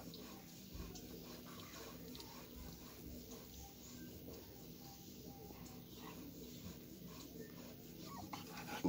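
A newborn German shepherd puppy, the mother's first, whimpers faintly while nursing on rice-straw bedding, with soft, close squeaks and rustling over a low, steady background.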